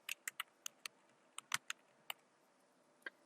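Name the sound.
typing an email address on a computer keyboard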